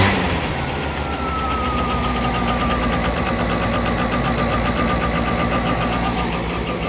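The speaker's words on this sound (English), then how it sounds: "It idles, and then when you give it some throttle" A small project scooter engine runs steadily with a busy, buzzing idle and a faint rising whine, close and loud, with no voices.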